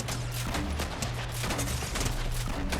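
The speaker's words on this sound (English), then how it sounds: "We're gonna just shoot." Gunfire from shooting enemies in the Fortnite game Havoc Hotel 3, a creative map, comes as steady repeated bursts that fill the whole stretch, loud and continuous with a rhythmic pulsing under it.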